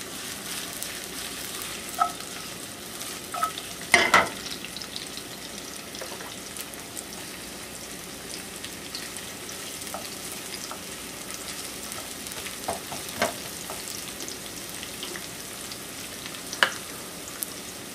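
Onion softening in a pan gives a low, steady sizzle, broken by a few sharp clicks and scrapes as it gets stirred now and then, close and fairly quiet with no voices.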